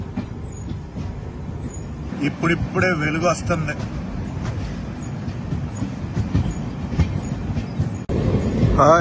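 The Tirupati–Hazrat Nizamuddin Rajdhani Express runs on its tracks with a steady rumble and clatter of wheels, and brief squeals rise mid-way while someone talks over the train noise.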